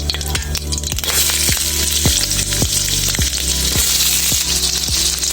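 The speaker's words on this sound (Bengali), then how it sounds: "আমি একই প্যানে দিয়ে দেব পেঁয়াজ কুচি" Chopped onion fries in a pan that was used for egg, a loud close sizzle broken by regular scraping stirs and clacks of a spatula.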